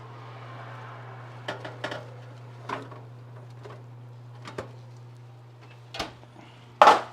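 A steak pan is pulled out of the oven with a series of light metallic clinks and knocks, ending in one louder clatter, over a steady low kitchen hum.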